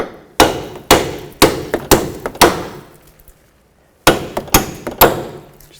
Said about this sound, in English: And you want to hammer the bolts out.